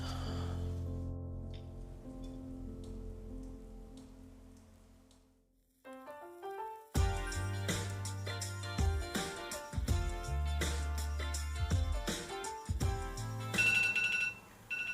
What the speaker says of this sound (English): That's my alarm as well